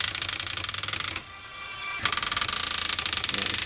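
A TRS-80 DWP-410 daisy wheel printer hammers out text in a rapid, rattling stream of clacks, pauses briefly while its carriage shifts, then resumes the same fast mechanical chatter close by.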